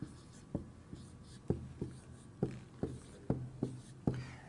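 A pen writing numbers on paper produces crisp, close, tapping scratches in irregular short strokes, quiet and without any speech over them.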